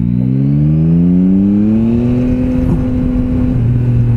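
A Yamaha Tracer 9 GT Plus motorcycle engine revs up while riding, its pitch climbing smoothly over a few seconds, then holding near and loud with a slight dip toward the end.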